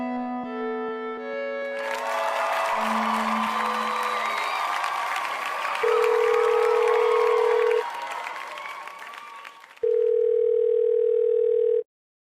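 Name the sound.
telephone dial tone while placing a prank call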